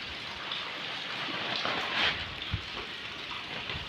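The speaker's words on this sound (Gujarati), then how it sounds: "વરસાદ એવો આવે ને વાત જવા દે, એકવાર ચેક કરો તમે વરસાદ કેવો આવે ને." Heavy rain pours outdoors as a steady, faint hiss of falling water, with a few louder splashes and drops standing out near the middle.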